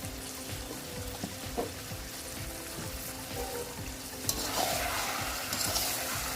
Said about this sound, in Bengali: নুন হলুদ মশলা মাংস একসঙ্গে ভালো করে কষিয়ে নিচ্ছি